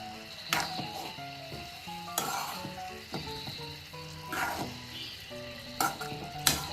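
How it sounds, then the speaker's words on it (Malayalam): Madantha thoran stirred gently in a pan of coconut oil, a Kerala-style stir-fry: a steady close sizzle with repeated clinks and scrapes of a spoon against the pan throughout. "ഇനി നമുക്കിത് ഉടയാതെ ഒന്ന് ചെറുതായിട്ടൊന്ന് ഇളക്കി കൊടുക്കാവേ."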